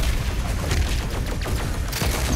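Rapid, loud gunfire in the shooter game Doom Eternal, a dense continuous burst of shots and impacts filling the whole moment, close and forceful with no voices over it.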